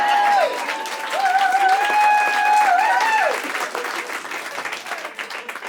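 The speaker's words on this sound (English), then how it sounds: "those applause were mostly from moms" Loud audience applause at a comedy show, mostly from mothers, with sustained cheering whoops riding over the clapping before it thins into lighter scattered claps.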